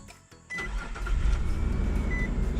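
An old pickup truck engine starting up: a brief cranking, then the engine catches and settles into a loud, rough, steady idle, heard close by with no talking.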